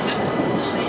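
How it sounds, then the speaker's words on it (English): A train in London or Kent rolls past as a brief burst of dense, rumbling rail noise, loud and steady for under a second. "There's a train over there."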